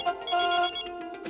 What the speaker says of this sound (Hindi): जूनियर वागले का फोन है।